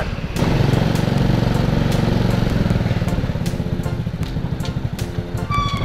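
A Honda Grand motorcycle's engine runs close by, a steady loud putter with an even firing rhythm that holds for several seconds and dips slightly near the end, alone without talk.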